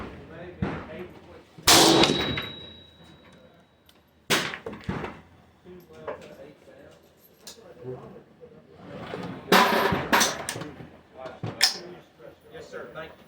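Rifle shots ring out at an outdoor shooting range, several sharp, loud cracks spaced irregularly, some in quick pairs, with people talking in between.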